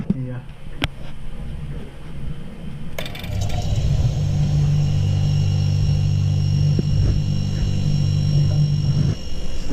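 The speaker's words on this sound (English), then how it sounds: "that compressor just fired up nice" A freezer compressor kicks on with a sharp click, then settles into a steady, loud low hum and drone that runs on close by, with a few faint clinks over it.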